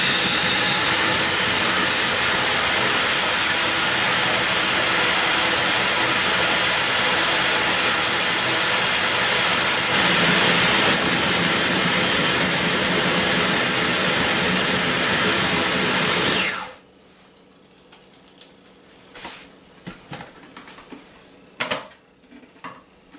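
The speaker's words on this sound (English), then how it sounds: "Put the lid on and pulse this baby up." A blender runs loud and continuously as it pulses a sweet dip made with sugar. The whirring roar lasts about sixteen seconds, then cuts off abruptly, leaving a few faint clinks and taps.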